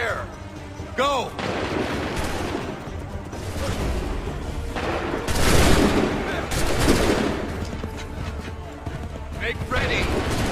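Musket volleys crack out in Assassin's Creed III, dense bursts of gunfire and booming shots building into a loud fusillade, with shouted commands from soldiers over the battle.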